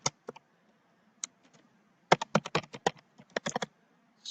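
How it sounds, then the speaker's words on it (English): Password keystrokes on a computer keyboard: scattered single clicks, then a fast burst of crisp taps near the mic, with short pauses between groups and no talking. "So I'm going to type,"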